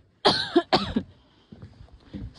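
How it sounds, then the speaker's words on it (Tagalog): Two sharp coughs from a nearby person outdoors on a very cold day in Almaty, Kazakhstan, followed by quieter shuffling and faint low background noise. "Sorry sa ubo, guys."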